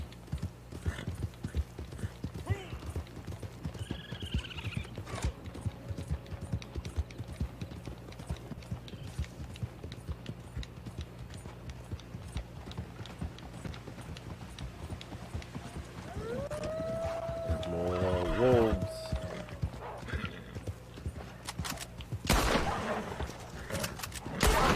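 A horse gallops with steady clip-clopping hooves in Red Dead Online, then lets out a wavering neigh partway through, with ambient game noise and a few sharp bangs near the end.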